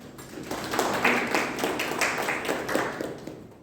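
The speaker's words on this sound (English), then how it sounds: "Give a big applause for them." An audience at a Toastmasters meeting claps together, a soft, fairly brief patter of many hands rising and holding at a moderate level.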